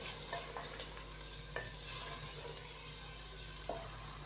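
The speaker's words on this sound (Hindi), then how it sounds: "टमाटर का पेस्ट शामिल करने के बाद हम इसको अच्छे से मिक्स करेंगे।" Tomato paste being stirred into chicken white handi in a pan, a soft steady scraping and faint sizzle with a few sharper clicks of the spoon, quiet and continuous, no talking.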